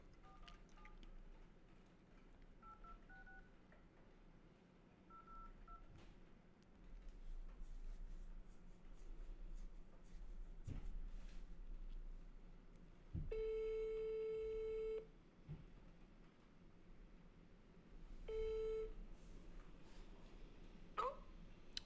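A telephone used for a sales cold call, with faint dialing beeps early on, then two clear ringback tones, one long and one shorter, in a quiet room.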